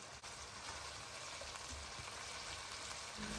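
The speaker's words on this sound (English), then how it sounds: "Toss it over medium heat about 1 minute and put holy basil leaf in. Just stir to combine it" Crispy fish stir-fried with holy basil in tamarind sauce sizzles steadily in a pan over medium heat, a continuous quiet hiss without talk.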